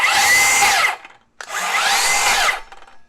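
Milwaukee M18 6-1/2 inch cordless circular saw spinning freely: two loud whining run-ups, each spinning down after about a second, with a short pause between, near and alone.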